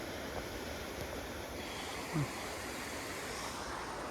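The Sandrai river flows in light rain, a steady broadband rush of water close by and continuous without pause, with only a faint brief sound near the middle.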